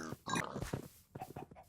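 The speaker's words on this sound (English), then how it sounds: "I can kill some pigs from here." Several short, low pig grunts and oinks in quick succession, close and moderately loud, with no talking.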